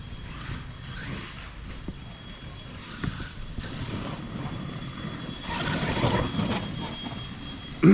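An ARRMA Mojave 8s RC car on a test run, its electric motor whining in a steady, moderately distant drone that rises toward the end, with no one speaking.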